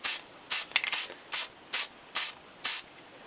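Light coats of spray paint going onto a vintage 1946/47 Sobell 516 tube radio cabinet: a series of short, close hissing bursts in a steady rhythm, with a brief rattle between the first few sprays.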